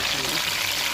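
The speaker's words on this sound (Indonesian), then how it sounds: "Goreng lagi." Kebab pieces frying in hot cooking oil, a dense continuous sizzle and crackle heard up close for about a second.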